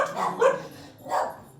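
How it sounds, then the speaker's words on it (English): A pet dog barking indoors at home, two or three short muffled barks close by, with no talk over them. "That's our dog. My dog."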